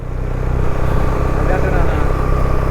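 A vehicle engine labouring in first gear up a steep hill road in rural Kerala, a low, steady rumble heard from inside the cabin while someone talks over it.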